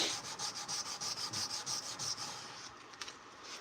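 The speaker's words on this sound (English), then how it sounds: "once you start feeling that sandpaper stop cutting, go ahead and switch to a different section" Sandpaper rubs back and forth by hand across a knife blade in quick, even strokes, close and fairly loud, before tapering into a softer scrape at the end.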